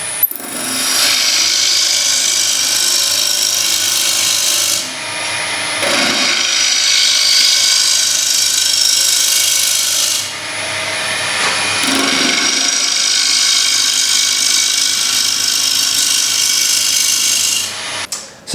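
A wood lathe trues the face of a bowl blank, with a loud, continuous scraping and hissing cut that briefly dips three times as the tool pauses, close and unbroken by speech.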